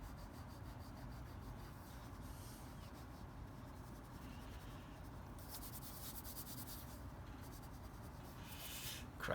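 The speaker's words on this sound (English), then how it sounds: "I'm going to erase this in here." A pencil eraser rubs back and forth across paper on a crocodile drawing, a steady close scratchy friction that continues throughout without pause.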